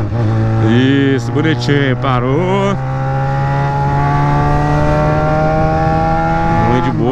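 A Yamaha XJ6 motorcycle engine idles loudly and close by with a few sharp revs at the start, then settles into a steady hum while someone speaks briefly over it.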